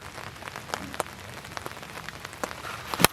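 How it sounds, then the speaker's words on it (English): Rain falling outdoors during a wiffle ball game, scattered sharp taps and patters of drops over a soft hiss, irregular and close. "This rain has been on and off all morning."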